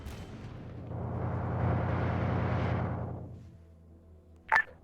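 A swelling roar of distant battle noise in a winter tank wargame builds and fades, ending with a sharp, bright gunfire crack near the end.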